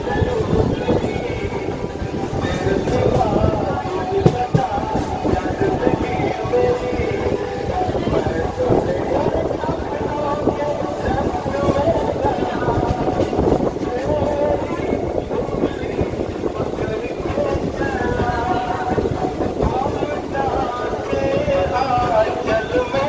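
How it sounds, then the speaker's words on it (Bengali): A Howrah–Tarakeswar local train pulling out of Konnagar station rumbles steadily and loudly, with the clatter of the carriages and wind buffeting the microphone throughout. "আরে বন্ধুরা, ট্রেন এখন আমাদের ছাড়লো কোন্নগর থেকে।"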